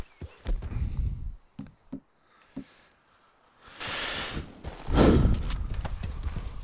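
In Red Dead Redemption 2, a horse's hooves knock in a few separate thuds, then break into a loud, close gallop, with a neigh rising over the pounding stride.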